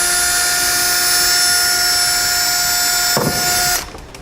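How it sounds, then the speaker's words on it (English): Small bit drilling out trim panel rivets on a 2011 vehicle during a base plate installation, a loud steady whining drill run that cuts off abruptly near the end. "We're going to have to drill them out. We'll take a small drill bit,"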